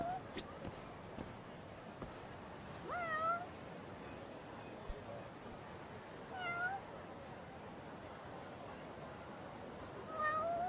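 Video game cat meowing, with three short, fairly faint meows spaced several seconds apart over a quiet, noisy background.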